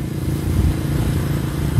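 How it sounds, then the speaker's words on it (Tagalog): Motorcycle, a 200X Explorer, riding on a road, a continuous low engine rumble with wind buffeting, steady and close throughout. "So yan yung dala nating motor."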